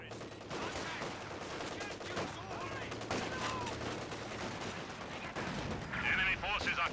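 Gunfire from a penal squad in the video game Company of Heroes 2, dense crackling small-arms bursts mixed with battle noise over a continuous bed, with someone talking throughout.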